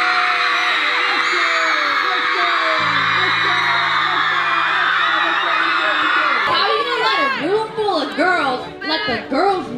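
An audience of fans screaming as loudly as possible in a boys-versus-girls screaming contest, a sustained dense roar of high shrieks that breaks into scattered whoops and yells toward the end.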